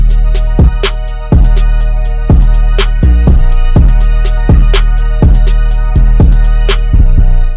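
A loud future-style trap beat plays with heavy booming bass hits on a steady rhythm, crisp hi-hats and sustained melodic tones, no voices.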